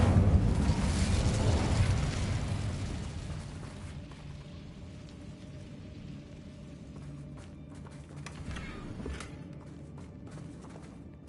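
Fire spell Incendio cast in the game Hogwarts Legacy, a loud roaring burst in the first two seconds that fades to a low rumbling background with faint scattered crackles.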